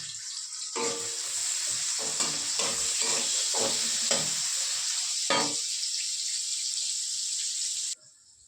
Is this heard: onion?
yes